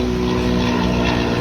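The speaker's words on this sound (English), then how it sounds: "There's a helicopter flying over." A steady, droning aircraft engine hum with a low rhythmic throb, continuous and fairly loud throughout, like a helicopter passing overhead.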